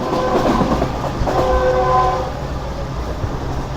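Pak Business Express passenger train picking up speed, a loud close rumble of wheels and rails with sustained horn-like tones in the first half that fade as the steady roll continues.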